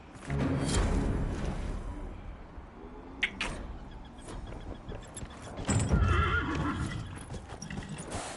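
A chestnut purebred Ferelden Forder horse in Dragon Age: Inquisition whinnies loudly, with clip-clopping hooves and stable clatter around it and a second neigh midway, close and clear with no talking.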